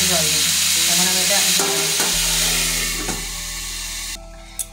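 Potatoes sizzle and crackle in hot oil in a pan for aloo posto, with a spoon stirring and scraping through them; the loud frying hiss holds steady, easing slightly toward the end with a final clatter.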